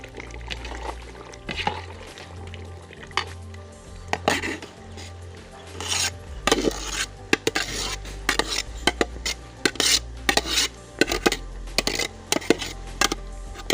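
Half-cooked rice goes into a pot of cooked chicken for a Tamil-style chicken dum biryani: repeated close clinks and scrapes of a spoon against the pot, with soft pouring and stirring, no talk.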